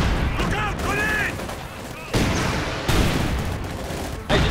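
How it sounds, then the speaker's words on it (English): A grenade goes off amid gunfire in the Company of Heroes 2 video game. Loud booms and bursts of rifle fire crackle in quick succession, with in-game voices shouting over the battle. "Look out, grenade!"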